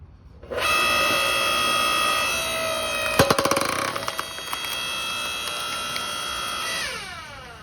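Wen electric wood splitter splitting a log, a steady motor hum and whine starting abruptly, with a burst of cracking and creaking midway as the wood gives, then the hum winding down near the end.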